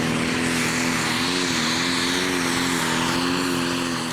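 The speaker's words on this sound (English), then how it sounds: "Let's see if full pull is on the agenda for a green tractor." A green John Deere pulling tractor at a 2016 Eurocup tractor pulling event in Brande, Denmark, drives its engine in a loud, continuous roar with a steady droning pitch that wavers slightly.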